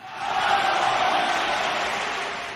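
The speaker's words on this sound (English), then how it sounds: "Stop cheering, elves." A crowd cheers loudly and steadily, a broad roar of many voices that swells early and holds, slowly easing off toward the end with no separate talk.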